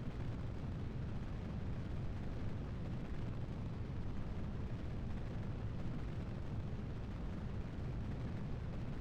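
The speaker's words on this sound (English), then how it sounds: "5, 4, 3, 2, 1, and liftoff" Rocket liftoff in Kerbal Space Program, a steady, broad, roaring engine rumble sustained loud and unbroken from start to finish, with no talk over it.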